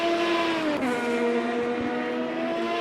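Race car engines in a sim racing game at Sonoma, a steady sustained droning whine from several cars running continuously, with one engine note dipping briefly partway through.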